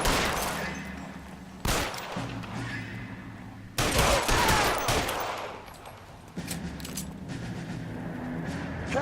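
Gunfire bursts in the L.A. Noire video game, rapid volleys of shots with sharp onsets near 2 and 4 seconds, loud and close, continuing in dense clattering runs with no voices over it.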